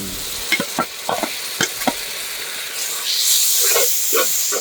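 Onions fry in a pan with stirring for a village-style banana root fry, scraping clacks at first, then a rising sizzling hiss close by.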